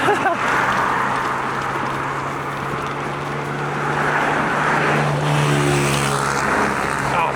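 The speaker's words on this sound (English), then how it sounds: "I don't like all the cars, they're pretty annoying" Road traffic on a night ride makes a constant loud rushing roar, and one vehicle swells louder as it passes near the end over steady wind noise.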